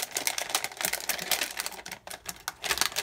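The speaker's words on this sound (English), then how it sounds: "So I'm gonna put tape right there." Tape pulled off a roll and pressed onto a sublimation paper wrap on a mug, a dense run of crackly, ripping rasps up close, with brief pauses.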